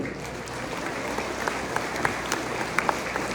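A large crowd applauds the governor of Oaxaca, Salomón Jara Cruz, at a public event in San Juan Mixtepec, producing a dense, sustained roar of clapping with a few sharper claps poking through.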